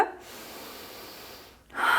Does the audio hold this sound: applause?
no